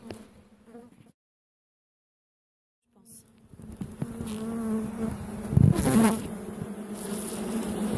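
Bees buzzing in an opened beehive, a close, loud, dense hum that cuts out into silence for a couple of seconds and then swells back with louder passes near the microphone.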